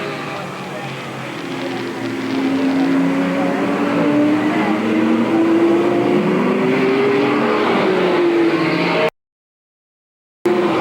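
Stock cars racing at Eugene Speedway in 1987, a loud sustained engine drone rising and falling in pitch as cars circle the track, with an announcer talking over it before a brief dropout.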